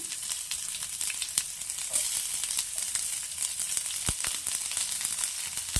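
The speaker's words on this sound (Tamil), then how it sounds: "இப்போ இது கூடவே ஒரு பெரிய வெங்காயத்தை நீள்வாக்கில் கட் பண்ணியிருக்கேன், அதையும் ஆட் பண்ணிக்கிறேன்." Sliced onion crackling and sizzling in hot oil with green chillies for an egg rice dish, a continuous close frying hiss broken by a few sharp spatula knocks near the end.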